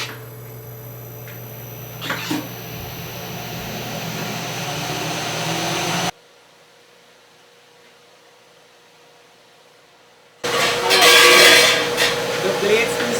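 A high-speed juicer or blender with blades spinning at about 60,000 rpm runs with a loud whining roar, cuts out into near silence for several seconds, then starts again loudly.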